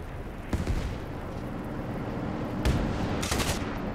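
Tank machine gun fire in War Thunder, loaded with .50 cal rounds, comes as a few sharp bursts of shots, one near the start and two heavier clusters toward the end, over steady engine and battlefield rumble.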